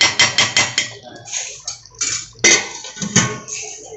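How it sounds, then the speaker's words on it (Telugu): Metal pot and lid clatter repeatedly while chicken curry is stirred, with a quick run of rhythmic clanks at the start, then scattered scrapes and knocks of the spoon against the pot, close and fairly loud. "ఇప్పుడు దీన్ని మూత పెట్టుకుంటూ కలుపుకోవాలి"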